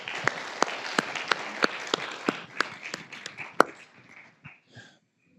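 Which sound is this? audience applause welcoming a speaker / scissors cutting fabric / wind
audience applause welcoming a speaker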